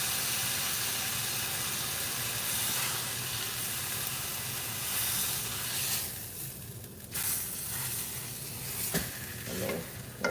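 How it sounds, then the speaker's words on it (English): A heavy beef pot roast sears in a pot, with a steady loud sizzle and hiss throughout, a few clunks and shifts near the end as the meat is moved. "searing on both sides"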